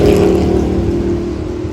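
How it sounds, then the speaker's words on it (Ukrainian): Motorcycles speeding along a road in Jacksonville, Florida, heard as a loud, close engine drone that holds steady and then fades slightly over a brief moment. "тут мотоциклісти теж ганяють, інколи рідко, але теж ганяють і буває таке"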